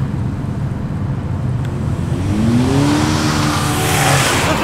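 Ford Falcon S-Pac muscle car revving hard as it leaves a big car meet, a loud close engine roar that climbs steadily in pitch, with a faint squeal of tires.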